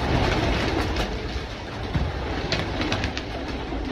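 French meat pigeons cooing and fluttering at a pigeon farm, heard as scattered soft calls and short wing rustles over a constant mechanical background hum, with nobody speaking.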